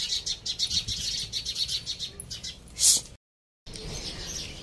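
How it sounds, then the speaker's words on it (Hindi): Small birds chirp in quick repeated high tweets as they gather to feed, with one louder call near the end and a brief dropout. "चिड़ियाँ आ रही हैं"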